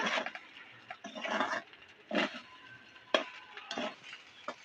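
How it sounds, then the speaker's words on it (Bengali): A spoon stirs ghee through masala pulao rice in a pan, making several separate bursts of scraping and rustling with brief pauses between strokes, close and fairly quiet. "দিয়ে ঘিটা ভালো করে মিশিয়ে নেব"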